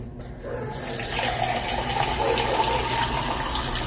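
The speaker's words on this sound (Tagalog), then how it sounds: "Butangan na ni nato tubig." Tap water runs and splashes steadily into a cooking pot for several seconds, starting quiet and then holding a full, even rush close by, with no talk.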